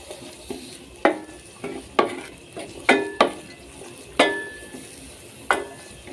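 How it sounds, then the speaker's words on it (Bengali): Capsicum stirred into nearly cooked vegetables for fried rice in a pan, with a steady sizzle underneath and several sharp, irregular scraping stir strokes of a spatula against the pan, close and fairly loud, no talking. "ক্যাপসিকামটা দিয়ে আমি ভালো করে নেড়ে নেব।"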